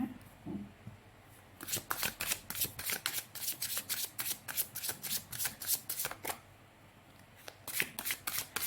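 Fortune-telling cards shuffled by hand in a rapid run of crisp riffling flicks, sharp and close, starting after a brief quiet opening and pausing once before a final burst.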